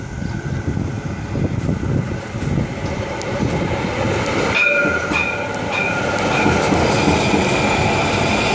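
A tram rolling through the level crossing at Vila Joiosa, a continuous loud rumble and clatter of wheels on rails with tonal squeals and ringing notes rising partway through, sustained throughout without talk.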